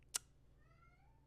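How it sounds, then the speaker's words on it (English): A faint, drawn-out meow from a cat in a living room, heard against quiet room hum just after a short sharp click. "do you hear that cat?"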